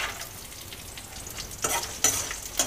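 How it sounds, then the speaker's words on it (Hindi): Peanuts and curry leaves roast in a hot pan, a soft crackling sizzle broken by a few louder scraping bursts as a spoon stirs them. "मूंगफली को थोड़ा भून लेंगे।"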